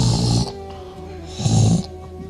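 A voice imitates a husband's snoring, two rough, rasping snore breaths with a pause between, close and loud in a speech setting.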